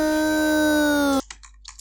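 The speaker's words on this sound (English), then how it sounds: "That is just like an impact from a cyber library pack that I have from Splice." A cyber-style impact one-shot from a Splice sample pack: a bright, dense synthetic blast with sustained tonal layers that holds for about a second, then cuts off abruptly into a few faint scattered glitchy ticks.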